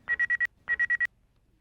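Telephone ringing in a Hindi crime drama scene, two quick bursts of four electronic trills each, separated by a short pause, clear and close with no talk.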